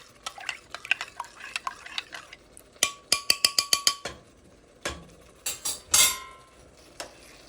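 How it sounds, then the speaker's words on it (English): Buttermilk potato curry stirred in a pot with a utensil, giving a series of sharp clinks and scrapes against the metal, close and fairly quiet, with pauses between bursts of stirring. "And then add inside the pot and mix very quickly."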